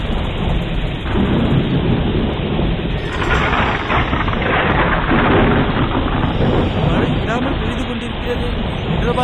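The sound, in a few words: thunderstorm with heavy rain in a cartoon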